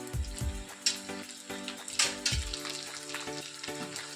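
Chopped spring onion stirred into vegetable fried rice in a pan, a soft, low sizzle under a few dull knocks and scrapes of the spoon, close but quiet, with no voices.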